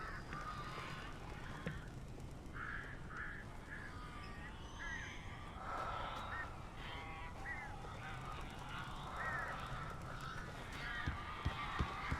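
Several crows caw in the Alan Wake video game, a scattered series of harsh calls over a low dark ambient bed, fairly faint and spread across the scene.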